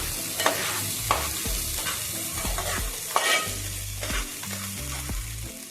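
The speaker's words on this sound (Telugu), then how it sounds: "ఇది టేస్ట్కి సరిపడా వేసి ఇలా ఫ్రై చేయాలి" Spices frying with rock salt in a pan, an up-close sizzle with repeated scraping and stirring strokes in an irregular rhythm, with no talking.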